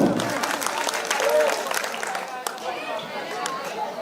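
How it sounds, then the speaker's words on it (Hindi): Applause from children in the audience at a school annual day event, steady clapping mixed with chatter and background voices throughout. "इसके लिए तो जोरदार तालियां बच्चों।"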